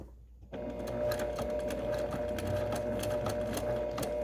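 A sewing machine top stitches around the edge of a fabric face mask, its needle running in a steady, close, continuous mechanical whir after a brief quiet start.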